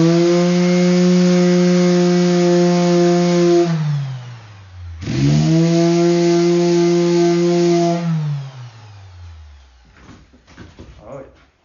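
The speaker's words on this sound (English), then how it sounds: "now the most obnoxious tool ever invented is the multi-tool. And this one came from Harbor Freight" A Harbor Freight oscillating multi-tool runs at a loud, steady buzzing pitch, winds down, starts up again, then stops, followed by faint handling noises.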